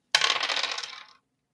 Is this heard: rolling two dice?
yes